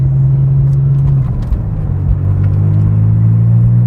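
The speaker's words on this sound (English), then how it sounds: "You hear those turbos" A Porsche 911 Gemballa GTR twin-turbo engine drones loudly and deeply up close, a steady low rumble with a slight dip and swell midway, the turbos audible.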